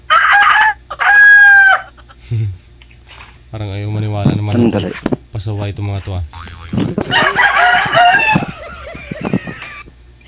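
Roosters crow loudly at close range while chickens cluck around them, the calls alternating and overlapping with people talking nearby.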